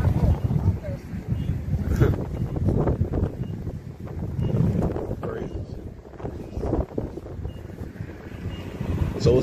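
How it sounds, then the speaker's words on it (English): Wind gusts buffet the microphone outdoors in a loud, continuous roar that swells and dips, with no other clear sounds over it. "it's windy out here, man."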